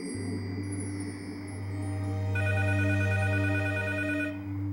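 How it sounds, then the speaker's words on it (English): A telephone rings with an electronic bell tone, steady and close, growing louder partway through and then cutting off, with no one talking. "Until Rainella gets a phone call"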